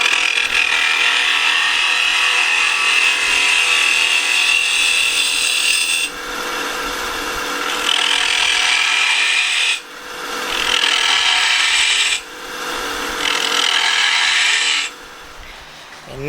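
A woodturning lathe shapes an acorn box, with a steady, loud scraping hiss of a tool cutting spinning wood, broken by a few brief pauses and changes in pitch, and no voices.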